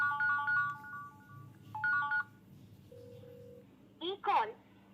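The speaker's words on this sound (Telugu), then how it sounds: "సో ఇప్పుడు మనకు ఒక కాల్ వస్తుంది" A mobile phone rings with an incoming call, an electronic ringtone melody playing in short repeated phrases, followed by a brief steady tone and a couple of quick chirps, close and clear over a low background hum.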